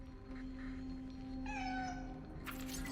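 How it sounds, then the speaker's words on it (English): Cats meowing in the video game Cronos: The New Dawn, with a couple of drawn-out, rising meows over a steady low hum and background game ambience. "These cats be meowing"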